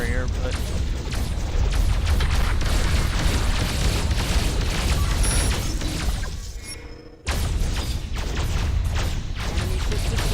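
Heavy, rumbling explosions as an enemy warship is destroyed in a naval combat game, booming bursts layered over a constant roar that drops out briefly near the end before the din resumes.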